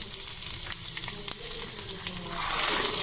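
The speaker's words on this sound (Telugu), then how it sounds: "ఒక 4-5 మినిట్స్ ఇలా ఫ్రై చేసుకోవాలి." Peanuts, chilies, garlic, coriander seeds and cumin sizzle and crackle steadily in hot oil, close up and continuous, with light stirring scrapes.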